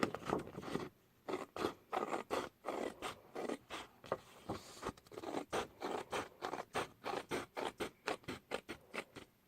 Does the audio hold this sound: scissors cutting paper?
yes